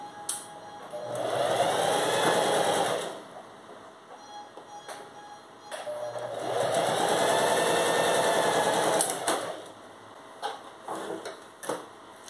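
Sewing machine stitching ric-rac trim onto fabric, running in two sustained bursts of steady motor hum and needle rattle separated by a pause with small handling clicks.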